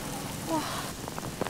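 Steady rain patters on a surface on a street at night, a constant soft wash with faint voices mixed in.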